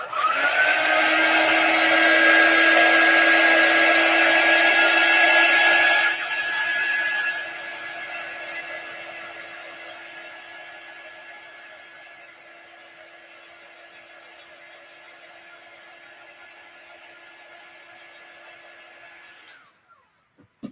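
Hair dryer blowing on a chalk craft project, a loud steady whine and rush that drops to a lower setting after a few seconds, runs on evenly, then switches off.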